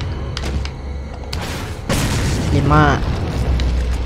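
Bazooka blasts in a shooting video game, heavy booming bursts with a big low thump midway, under a man's excited chatter.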